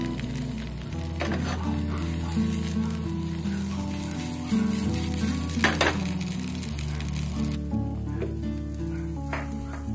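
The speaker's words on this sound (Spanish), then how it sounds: "en una sartén, vamos colocando una cucharada de mantequilla" Butter heating in a frying pan for an oat pizza, a soft sizzle and bubbling crackle with scattered clinks and knocks of utensils nearby, fairly quiet and without speech.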